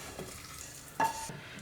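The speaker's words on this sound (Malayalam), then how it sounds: "അതിട്ടതിന് ശേഷം നന്നായിട്ടൊന്ന് മിക്സ് ചെയ്ത് കൊടുക്കാം" Roasted rice and moong dal are stirred in a frying pan while making ven pongal, giving soft, quiet scraping and sizzling with one sharper utensil clink partway through.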